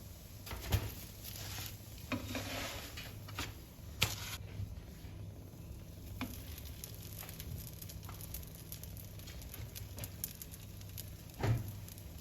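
Potato-filled gözleme flatbread frying in a pan, a soft continuous crackle and patter of oil with scattered sharper pops and occasional clacks of handling close by.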